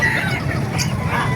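Chickens clucking at an outdoor poultry market in Calumpit, Bulacan, several birds at once in a busy, continuous chorus, with a sharper squawk standing out midway.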